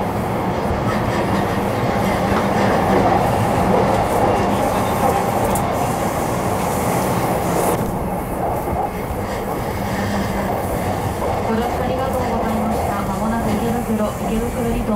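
JR Yamanote Line E235 series commuter train running between Sugamo and Ikebukuro, heard from inside as a steady, loud rumble of wheels and motors throughout, with faint indistinct voices in the background.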